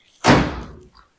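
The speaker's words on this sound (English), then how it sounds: "Surprisingly, the doors shut pretty good." A 1964 VW Bug car door shuts once with a solid, close slam and a short decaying thud.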